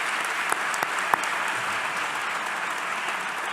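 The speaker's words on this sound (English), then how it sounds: "A big applause for everyone." Conference attendees at a closing plenary and ceremony in Athens give a sustained round of applause, a dense, even clapping texture with a few sharper claps near the start.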